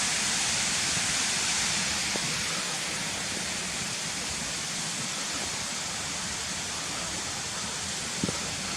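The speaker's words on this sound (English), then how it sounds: "this is where the water channels underneath the road here and drops down there" Water pours steadily down a channel beneath a road near Harmby waterfall, a loud continuous rushing roar like a small waterfall with no pause.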